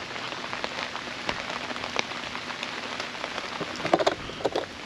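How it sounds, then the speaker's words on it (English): Light drizzling rain outdoors at a campsite, a steady close hiss of patter with scattered heavier drops on a surface near the end, no talking. "It's still raining, still drizzling"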